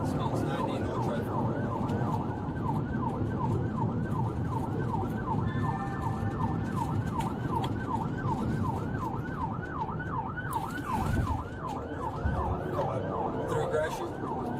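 Police car sirens wail in a steady repeating up-and-down cycle during a chase, heard over rushing road and engine noise from a moving vehicle, loud and sustained throughout.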